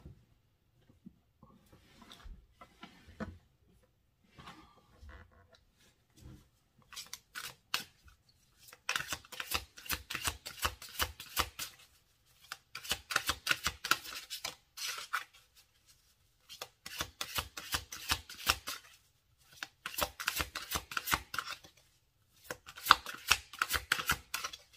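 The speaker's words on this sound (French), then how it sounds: "Alors, je vais vous tirer une carte" Tarot cards are shuffled close up for a reading. Soft, sparse riffles and rubs come first, then several bursts of rapid, crisp shuffling separated by short pauses.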